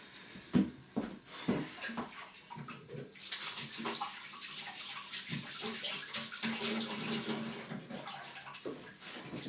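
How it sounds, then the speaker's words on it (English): Hands being washed under a running tap: a few splashes and knocks at first, then a continuous rush of flowing water with splashing, moderately close. "I'm just going to wash my hands."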